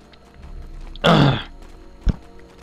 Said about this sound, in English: Just trying to clear my throat there and everything.